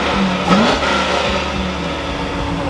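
A pickup truck's engine, its O2 sensor bypassed, runs steadily up close, with a quick rev rising and falling early on before it settles back into a constant mid-pitched drone.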